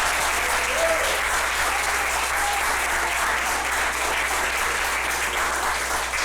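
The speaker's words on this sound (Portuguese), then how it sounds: "Vamos aplaudir a Jesus bem forte." An evangelical church congregation applauds loudly and steadily, a dense, continuous wash of many hands clapping together throughout.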